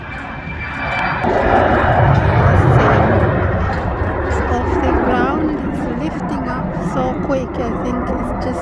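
A KLM airliner accelerates for takeoff, its engines building to a loud, steady roar that stays close and heavy throughout, with people talking over the noise.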